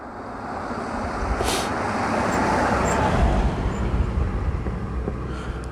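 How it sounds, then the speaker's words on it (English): A single car passes along a rural road on a packhorse route in West Yorkshire's Calder Valley, a broad steady roar that swells and fades over several seconds with no talking. "There's a car coming now"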